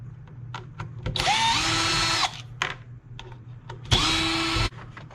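A cordless power drill spins screws out of a Traxxas Slash RC car in two close whirring bursts, each about a second long, with small clicks and handling noises between them.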